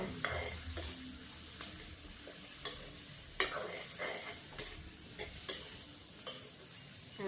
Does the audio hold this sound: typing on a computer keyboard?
no